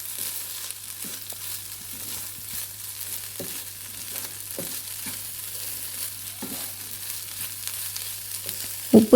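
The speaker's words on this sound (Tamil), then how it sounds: "மீன் கொஞ்சம் நல்லா ஃப்ரை ஆகிற அளவுக்கு நல்லா மிக்ஸ் பண்ணி விட்டுட்டு" Shark fish cooks in a pan for a scramble, a faint, steady frying hiss broken by soft, irregular scrapes of a spoon being stirred through it, with no voices.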